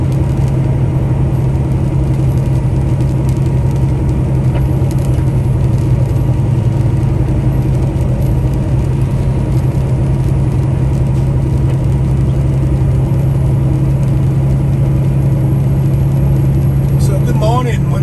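Inside a truck cruising down a highway in freezing rain, a loud, steady engine drone and low road rumble run unbroken throughout, with faint spray noise and no pause in the hum.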